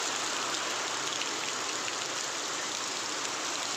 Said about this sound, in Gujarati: ખાટુરામાં વરસાદ છે આજનો બહુ વધારે છે